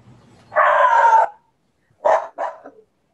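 A dog barks and yowls during an online public hearing, with a drawn-out bark-howl followed after a pause by two short, sharp barks, loud and close against near silence.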